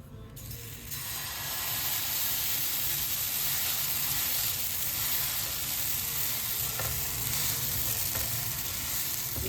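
Jaffna-style soft dosa batter sizzles on a hot oiled pan over a medium flame, a steady, even frying hiss that rises quickly and holds unchanged at close range, with no talking.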